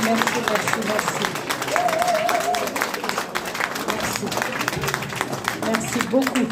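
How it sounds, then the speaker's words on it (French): A crowd gives sustained applause for women on stage at a film gathering at UNESCO, a dense steady clapping that carries on throughout, with voices and cheering mixed into the noise. "un tonnerre d'applaudissements pour ces femmes"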